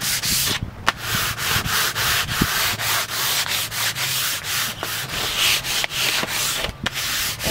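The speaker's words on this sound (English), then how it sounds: "So we're just going to go over and sand it down." Sandpaper rubs back and forth over a stripped wooden front door in quick rhythmic strokes, loud and close, with no talk.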